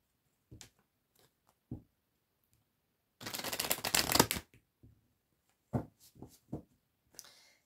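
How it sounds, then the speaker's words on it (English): A Magical Messages from the Fairies card deck is shuffled up close, with a few quick riffling bursts and one longer shuffle in the middle, then soft taps and slides of the cards in a quiet room. "I'm going to be using my new deck of cards, which are called Magical Messages from the Fairies deck"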